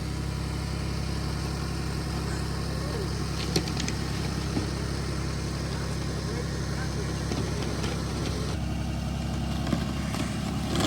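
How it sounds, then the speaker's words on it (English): A tractor engine running steadily as it pulls a homemade chicken tractor across a field, a constant mid-pitched drone with a few faint knocks and clanks over the top. "try and pull it with a tractor"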